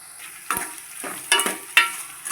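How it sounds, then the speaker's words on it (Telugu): Chopped onions softening in hot oil for a bitter gourd fry, a low frying hiss broken by four scraping stirs of a spatula, close and fairly quiet, with no talk. "ఉల్లిపాయలు అయితే కొద్దిగా గోల్డ్ కలర్లోకి వచ్చేంత వరకు అలా మాగనివ్వాలి"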